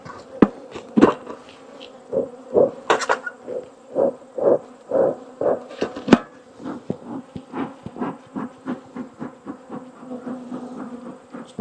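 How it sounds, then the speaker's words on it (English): Agitated honey bees swarm around their hive outdoors, a close buzzing that swells and fades in rapid irregular pulses as insects fly past, with a few sharp knocks in between and no speech. "This hive here is our angry hive."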